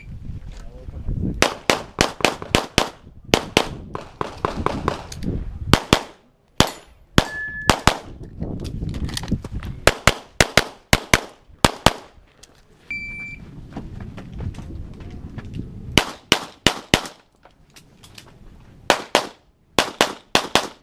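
Pistol gunshots at a practical shooting match, the Double Tap Championship, sharp loud cracks fired in quick strings and double taps with pauses between, steel targets clanging and faint background chatter.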